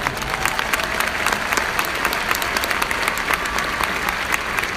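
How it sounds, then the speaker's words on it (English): Dense, steady applause from a large audience at a university commencement ceremony, many hands clapping evenly throughout with no voices over it. "That deserves a round of applause."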